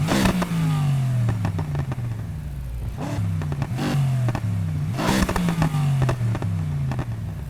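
A BMW M4 with straight cut gears in Need for Speed Heat, the engine revving hard through repeated upshifts, each climb ending in a crackling shift, loud and close without any voices.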